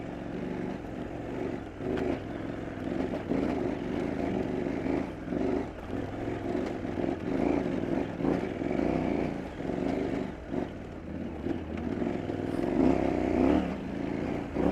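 A KTM 790 Adventure R motorcycle ridden in second gear over rocky ground in the heat, a continuous engine drone with bumps and jolts rising and dipping throughout.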